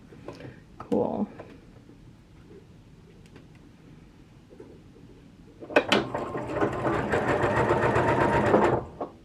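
Sewing machine stitching zigzags into bandana fabric, a steady fast mechanical whir lasting about three seconds after soft handling clicks and rustles, close and fairly loud.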